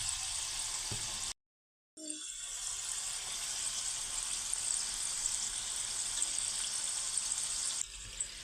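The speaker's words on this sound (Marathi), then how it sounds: "आपल्याला यांना मंद आचेवरती तळून घ्यायचं आहे" Champakali dough pieces frying slowly in oil over a low flame, a steady soft hiss and crackle that runs nearly throughout, broken by one brief silent cut near the start.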